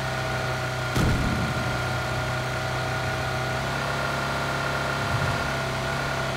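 Car engine in PUBG running at a steady idle-like drone, with a brief thump near the start and another later, no voices heard.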